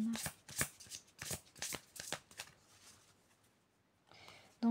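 Tarot cards being shuffled and drawn by hand, a run of quick papery riffles and slaps close up that thin out into softer handling, with someone speaking French at the start and end.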